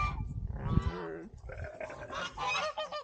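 Sheep on a farm bleat in a couple of nasal, wavering calls, fairly close, with a brief thump of movement between them and no talking.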